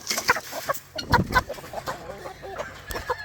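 Chickens cluck close by in short, uneven bursts, with a denser flurry of calls in the middle.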